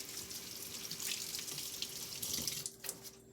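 Hands rinsed under a running kitchen tap while making a hot chocolate bomb, a steady close splash of water that ends after a few seconds.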